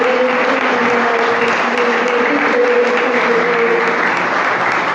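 A church congregation applauds during a worship service, a dense, loud, continuous wash of clapping from many hands, sustained throughout.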